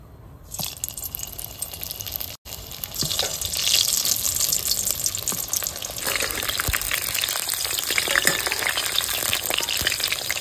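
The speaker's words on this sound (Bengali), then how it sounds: "এখন এই পটলটা আমি ভেজে নেব।" Stuffed pointed gourd (potol) frying in hot oil, a loud bubbling sizzle that flares up as the pieces go in, with spattering crackles and occasional stirring.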